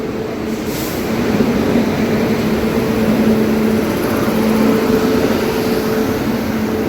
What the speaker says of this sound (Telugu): మన ప్రశాంత్ ఎక్స్ప్రెస్ అయితే వచ్చేస్తుంది వ్యాప్ సెవెన్ వైట్ బీస్ట్ లోకోమోటివ్తో